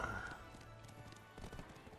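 Horse hooves clip-clop in a quick, steady rhythm in the video game Black Desert Online, close and moderately loud, with a faint musical tone in the background.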